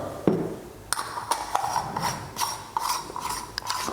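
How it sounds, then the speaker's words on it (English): A Mazzer Omega precision hand coffee grinder is cranked, giving a close mechanical ratcheting and grinding rasp in uneven bursts, with sharp clicks and faint metallic pings between strokes. "a really super precision hand grinder"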